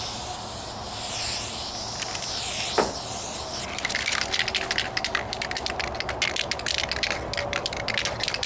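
A rattle can sprays a mist coat of paint onto the hood of a 1998 Toyota Corolla, giving a steady close hiss with short sputtering bursts and a few faint clicks of the nozzle.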